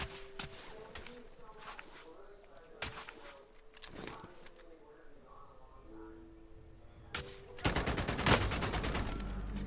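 Small-caliber gunfire in a realism battle royale game, scattered sharp cracks early on, then a fast dense burst of shots near the end, fairly faint overall with talk between.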